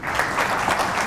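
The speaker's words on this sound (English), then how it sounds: "a big clap." Audience applause for a team of directors at a TVET conference, steady dense clapping from a crowd throughout the short stretch, close and fairly loud.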